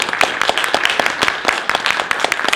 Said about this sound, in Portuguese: por favor, deem uma salva de palmas